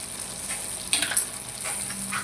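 Tomatoes with chili powder and coriander powder cook in a pan for an eggplant and potato curry, giving a constant hissing sizzle broken by a few brief stirring scrapes near the middle.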